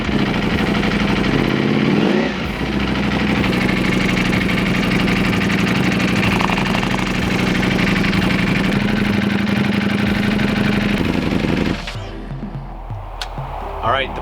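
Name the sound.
motorcycle engine idling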